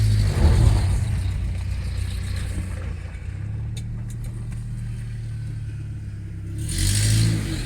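A 1992 Ford Ranger flatbed pickup driving in second gear, a steady mid-pitched engine drone with road noise, swelling louder near the start and end.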